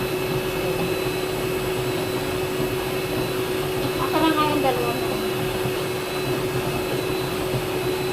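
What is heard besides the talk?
steamer steaming pillows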